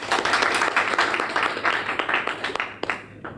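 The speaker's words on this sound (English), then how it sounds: "If you would give them another round of applause." An audience at a university career-services closing breakfast claps in a moderate round of applause that stays steady, then tapers to a few scattered claps and fades out.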